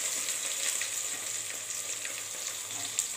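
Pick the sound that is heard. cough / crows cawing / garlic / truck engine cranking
garlic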